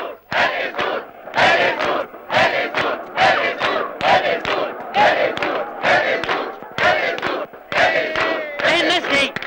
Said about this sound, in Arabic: اللعيبة تسمع زئير الجماهير